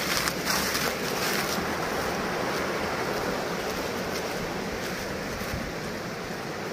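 Swollen, high-running creek water rushes in a dense, continuous roar close by, with some wind noise over the microphone and no voices.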